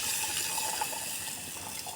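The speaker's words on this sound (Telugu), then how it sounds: "ఆ వాటర్ పోసేసుకున్నాం." Water pours steadily into a pot of rasam with tamarind, a continuous close splashing, gushing flow lasting the whole moment with no voices.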